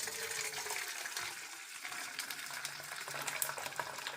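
Hot water poured over store-bought rasgulla, a steady gushing, splashing pour that runs close and continuous for a few seconds with no talking.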